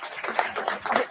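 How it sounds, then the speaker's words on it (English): An audience gives a short burst of applause, several hands clapping in a quick, uneven patter at moderate volume. "everybody give her a round of applause"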